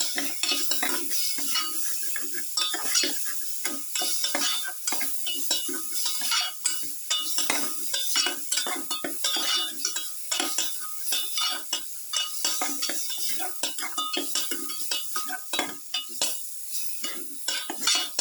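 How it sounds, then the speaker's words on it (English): Tomato pieces and chopped garlic sautéing in a pan, a continuous sizzle broken by rapid scraping and clinking of a utensil against the pan, close and busy with no talking. "keep on sauteing"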